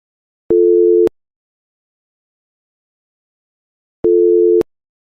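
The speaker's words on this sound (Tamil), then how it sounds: "ஆஹா ரிங் போகுது" Phone call ringing tone: two identical electronic beeps, each about half a second long, separated by a long silent gap, clean and steady with nothing else heard.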